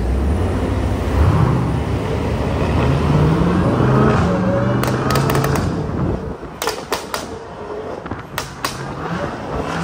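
Cars passing on a road, several vehicles sweeping by with engine and tire noise rising and fading, followed by sharp sporadic clicks and bangs near the end.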